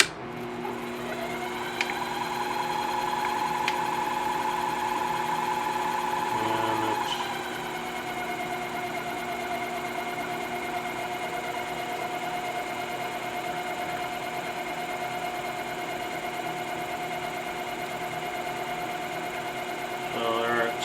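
A milling cutter runs at about 1,000 RPM while machining a key for a Rudall & Rose flute, a steady close mechanical whine and hum that dips slightly in pitch partway through.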